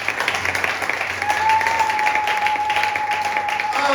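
A church congregation breaks into sustained applause and cheering during a thanksgiving service, a broad wash of clapping that swells partway through and holds, with a voice talking over it.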